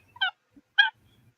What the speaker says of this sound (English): Those are Blue Jays. Yeah. And Blue Jays are just not playing around.